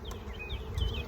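Dense, close buzzing of many honeybees during a spring hive split, a steady droning hum with wingbeats whirring in and out.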